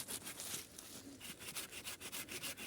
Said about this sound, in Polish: Piłujemy właśnie brzozę.